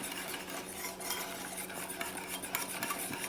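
A spoon scrapes and stirs steadily through Jack Daniels BBQ sauce for oxtails in a pot, close up, with soft continuous swirling and occasional clinks against the metal.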